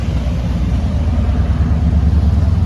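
Heavy road traffic in a city centre in Cannes: a loud, close, continuous low rumble of car and motorbike engines, steady throughout with no talk over it.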